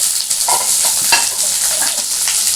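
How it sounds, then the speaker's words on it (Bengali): Onions and curry leaves sizzle loudly in a pan while being stirred, with continuous crackling and scraping throughout and no voices. "এটা যেমন ভাজা হচ্ছে"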